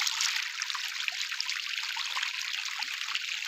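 Irrigation water running through a channel in a farm field, a steady bright trickling and gurgling that stays fairly soft and close, with no voices.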